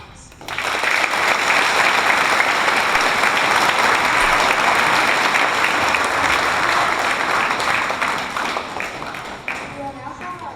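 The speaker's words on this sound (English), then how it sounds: "Please join me as we all give our veterans another round of applause." Audience at a veterans' ceremony claps in a loud, dense burst of applause that starts abruptly, holds steady for several seconds, then thins out as it fades.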